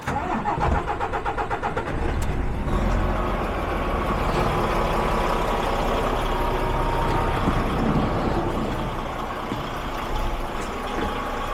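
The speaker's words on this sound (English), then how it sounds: "Let's go start the truck." A DAF MX-13 diesel truck engine, checked for camshaft and unit pump trouble, cranks with rapid rhythmic pulses for about two seconds, then catches and settles into a steady, loud idle that runs on alone.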